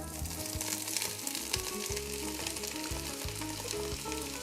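Vegetables for a vegetarian chili sizzle loudly in hot oil, a dense continuous frying hiss with faint background hum, and no talking.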